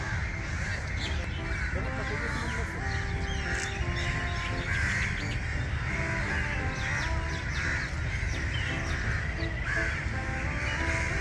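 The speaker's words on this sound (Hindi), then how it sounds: "ये कबों का बसेरा है जी।" Many crows caw repeatedly from their roost in Bagh-e-Jinnah park, Lahore, a dense, constant chorus of harsh calls over busy outdoor ambience while a person talks.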